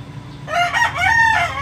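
A rooster crows once, loud and close, a long rising-and-falling call with no other sounds around it.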